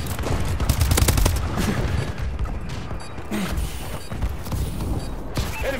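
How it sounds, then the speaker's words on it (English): Bombing-run explosions and heavy gunfire from a Call of Duty multiplayer match rattle in quick, dense bursts, loud and close, with booming blasts and crackling impacts continuing throughout. "Enemy bombing run overhead."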